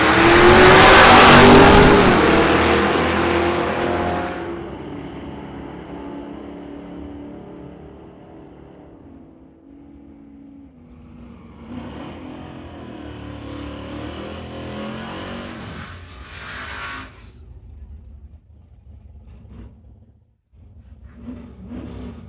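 A 1957 car and a 1960 Chev pickup launch side by side in an old-time drag race, engines roaring loud at the start, then fading as they pull away down the strip, with a second burst of engine noise passing later.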